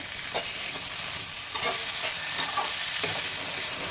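Onions sauté in oil in a pan for a wheat rava kichadi, giving a steady close sizzle and hiss with a few soft stirring scrapes of a spoon against the pan, and no talking.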